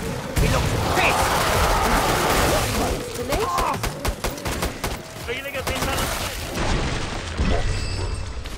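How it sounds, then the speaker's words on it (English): A flash bomb goes off in a first-person shooter, heard as a loud burst within a busy run of crackling gunfire and booms that continues throughout at close range. "That's a flash bomb"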